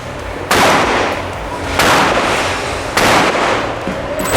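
Three loud gunshots ring out at a shooting range, fired at three targets in steady succession about a second and a quarter apart, each a sharp blast with a long reverberant tail and no talking.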